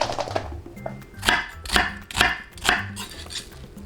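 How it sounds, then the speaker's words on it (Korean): Knife chopping half an onion on a cutting board: several distinct, close chops in an uneven rhythm, with light clatter between strokes and no voices. "양파는 반 개만 썰어주십니다"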